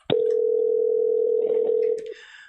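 A telephone line sounds as a guest is called: a sharp click, then a steady continuous tone lasting about two seconds before cutting off into faint line noise.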